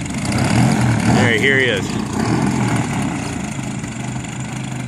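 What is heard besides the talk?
42% Hyperlite Slick 540 model airplane engine running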